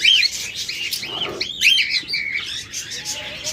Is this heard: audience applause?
no